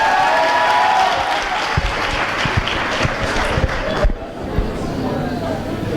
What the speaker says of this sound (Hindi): ये लोग मन से अच्छे से तालियां बजा रहे हैं